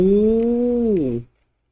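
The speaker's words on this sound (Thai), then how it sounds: "แมวกลัว" A frightened cat lets out one loud, drawn-out yowl in a horror game, holding steady and then bending downward before it cuts off into silence.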